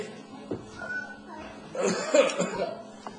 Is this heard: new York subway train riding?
no